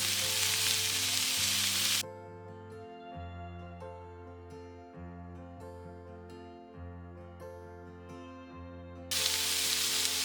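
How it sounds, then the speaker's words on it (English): Beef for barbacoa searing in a hot pan gives a loud, steady sizzle at the start and again at the end, with music playing alone in between. "I'm going to flip it and sear it 3 minutes on the other side as well."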